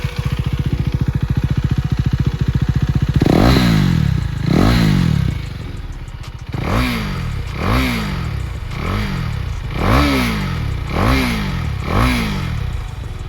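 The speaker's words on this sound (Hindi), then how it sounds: "तो ये थी एग्जॉस्ट साउंड।" A KTM Duke 390 motorcycle idles with a fast, even exhaust thrum, then its throttle is blipped in repeated sharp revs that rise and fall, about eight bursts in a steady rhythm, loud and close.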